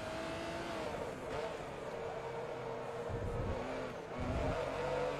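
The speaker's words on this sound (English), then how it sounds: "I do like the sound of this engine in the Maserati." A Maserati engine in Forza Motorsport 2 hums and revs steadily, rising and falling through gears, with louder low rumbles near the end.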